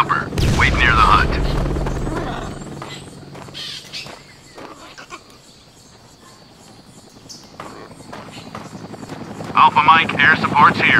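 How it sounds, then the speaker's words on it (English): Military helicopter in The Hell in Vietnam, a Vietnam War shooter: a steady rotor drone runs beneath the scene, loud at first, fading in the middle and rising again, with game voices and scattered effects over it. "We're sending you a chopper."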